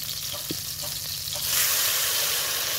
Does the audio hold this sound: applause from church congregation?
no